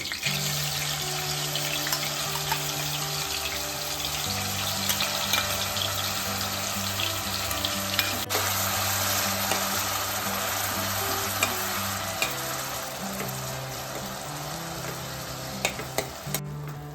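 Masala paste fries loudly with chillies and curry leaves in a pan for crab curry, a dense, continuous sizzle broken by regular stirring scrapes, heard up close with no voices.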